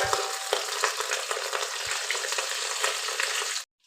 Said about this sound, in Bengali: গ্যাস কমিয়ে পটলটা একদম নরম নরম করে লাল লাল করে ভেজে নেব।